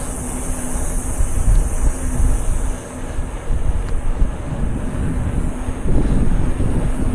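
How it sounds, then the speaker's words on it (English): Headwind buffeting a microphone outdoors, a continuous low rumbling roar with gusty surges and a brief dip, loud and close with no other sounds standing out. "Got kind of a headwind going on."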